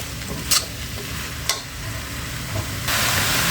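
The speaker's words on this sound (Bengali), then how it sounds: "এখন আমি শাকের মধ্যে আর সিমের মধ্যে দিয়ে দিলাম, দিয়ে একটু নেড়ে ছেড়ে দিয়ে" Bottle gourd greens with flat beans being stir-fried, making a steady close sizzle broken by a couple of sharp scraping clicks, with the hiss growing louder near the end and no voices.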